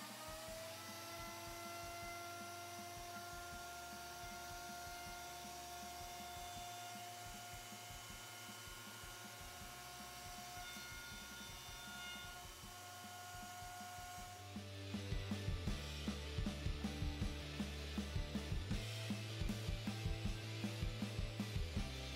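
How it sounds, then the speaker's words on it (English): A repaired wood planer hums steadily, then a cutting board feeds through and sets off a loud, rapid rattling chatter as the blades cut the wood. "we're going to go ahead and try to run this cutting board back through here and see how it does"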